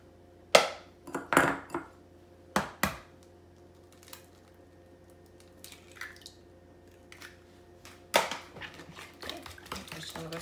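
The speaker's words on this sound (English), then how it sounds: "Just break them up and stir them in there." Two large eggs being broken up and stirred into banana bread batter in a bowl, with scattered clinks of utensil against the bowl and soft wet stirring sounds in separate bursts, fairly close.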